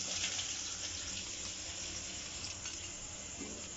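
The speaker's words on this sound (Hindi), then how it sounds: "और ये अब उसके अंदर थोड़ा सा प्याज सोते करेंगे" Onions sauté in ghee and oil in a pot for handi kabab, giving a soft, steady sizzle with light stirring noises and no talk.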